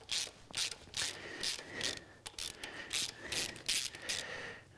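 A ratchet clicks in quick, repeated bursts as exhaust rocker assemblies come off a cylinder head during a head gasket replacement, close and fairly clear with short pauses between strokes.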